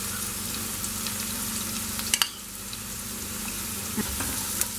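Onion and green chili paste fry in hot oil with mustard seeds in a pan, an even steady sizzle with a few sharp ticks and clinks of a stirring spoon, no voices present.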